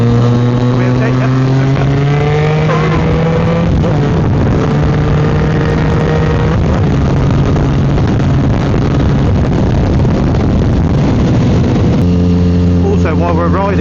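A Yamaha MT-09 motorcycle cruising on the road, its engine a steady drone with shifting harmonic tones as revs rise and fall, heard close through wind noise with a brief engine dip near the end.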